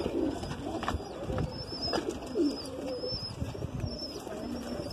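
A Madrasi pigeon coos in short, throaty bursts close by, with other birds chirping and light rustling and knocks in the loft around it.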